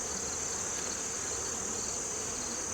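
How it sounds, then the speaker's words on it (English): Honeybees at a weak nuc hive swarm in a robbing frenzy, a dense, continuous high buzz of many wings close by and steady in level, with no voices. "bees start getting into kind of a frenzy"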